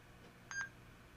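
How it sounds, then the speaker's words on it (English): A Panasonic camera powered over USB gives two short, quiet electronic beeps in quick succession as its self-timer counts down, against a faint room hiss. "It's doing a self-timer now."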